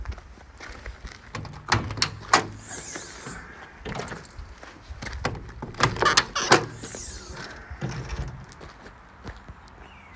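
Lockers on a used vehicle, registration NU13 AFJ, opened one after another during an operation test: a run of clunks, latch clicks and rattling panel thuds, close up and fairly busy, with no talking.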